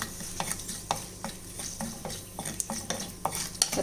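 Curry leaves, cumin and dried chillies frying in coconut oil, a close sizzle punctuated by frequent rhythmic scraping and tapping strokes of a spoon against the pan.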